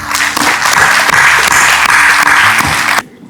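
An audience at an institute day event breaks into sustained applause after a speech, dense steady clapping for about three seconds that cuts off abruptly.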